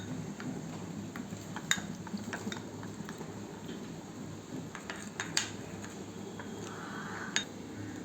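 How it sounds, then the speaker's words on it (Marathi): Custard powder stirred into a little milk, a spoon or whisk ticking and scraping against a bowl in quiet, irregular clinks, with a few sharper taps standing out over low kitchen background noise. "आता हे पावडर मिक्स करून घेतले थोड्याशा दुधामध्ये"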